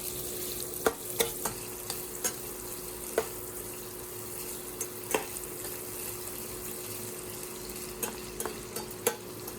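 Pork browns in a hot pan with a faint, steady sizzle under scattered light taps and scrapes of a utensil. It stays quiet and close, with no voices.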